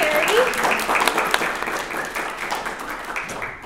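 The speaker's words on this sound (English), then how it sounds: "let's give a round of applause to Sherry" A lecture-hall audience at a museum theater applauds, a dense steady wash of many hands clapping that slowly tapers off, with some voices faintly mixed in.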